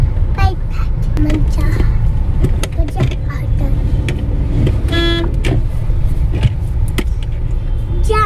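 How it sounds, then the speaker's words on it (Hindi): Heavy road traffic crawling in a jam on the Vijaynagar bypass, with a steady loud engine rumble, passing vehicles and occasional short horn toots throughout, heard from inside a car. "देखिए जाम कितना लगा हुआ है विजयनगर बाईपास"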